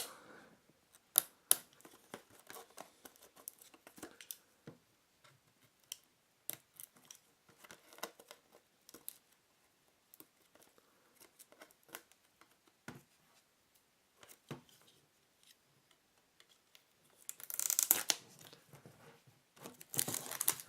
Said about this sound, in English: let's go ahead and open up the box by peeling off the wrapper